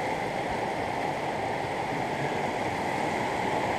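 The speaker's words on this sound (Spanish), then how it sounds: "Acá el río da una vuelta violenta." River water rushes hard around a sharp, violent bend in a gold-bearing river, heard up close as a steady, dense roar that neither pauses nor changes in level, with no voices.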